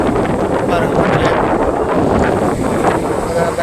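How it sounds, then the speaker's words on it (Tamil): Strong sea wind buffeting the microphone at the shore, a loud continuous roar and rumble with surf mixed in, no pauses. "காற்று அதிகமாக இருக்கிறதுனால"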